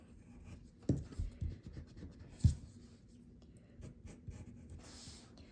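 Sharpie marker drawn across paper while sketching a portrait of General George S. Patton, giving soft, intermittent scratchy strokes with a few sharper taps, close and quiet with pauses between marks.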